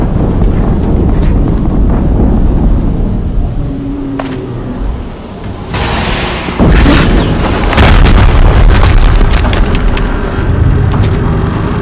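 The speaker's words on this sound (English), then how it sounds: "Another explosion." An explosion in the video game Horizon Zero Dawn, a loud sudden boom that bursts out of rushing wind-like noise and rumbles on, with further blasts and crackling debris following close by.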